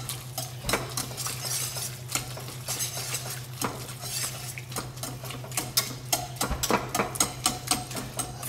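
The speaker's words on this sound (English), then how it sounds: "we're then going to take our whisk and break up this bread so that you now have a wonderful consistency of soup" A wire whisk clinks and scrapes rhythmically against a pot as it breaks up bread in Tuscan pappa al pomodoro tomato soup, steady, close strokes over a low kitchen hum.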